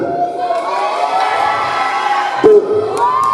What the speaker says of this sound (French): vous allez applaudir pour me dire quelle personne je sélectionne